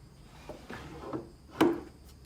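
Drawer of a wooden tool cabinet sliding with a few soft scrapes and knocks, ending in one sharper thump, close and fairly quiet.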